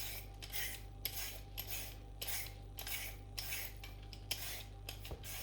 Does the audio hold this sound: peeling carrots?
yes